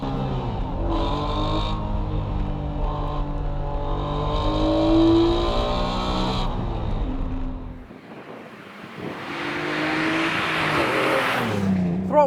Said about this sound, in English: it is a fantastic sounding engine all the same